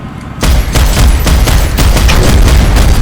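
PlanetSide 2 gunfire begins after a short quiet moment and continues as loud, fast repeated shots with heavy low booms, pounding steadily for about two and a half seconds.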